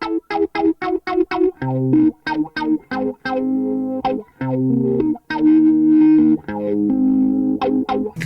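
Electric guitar through a Microtron envelope filter pedal, a sweeping synth-like filter effect, rhythmic chopped chords with a buzzy, resonant tone, loud and close, no voices.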